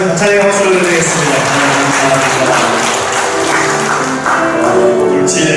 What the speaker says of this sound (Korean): 하나님을 가장 찬양의 박수를 드리겠습니다